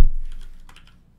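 A short, close burst of a few quick keystrokes on a computer keyboard, fading out within about a second.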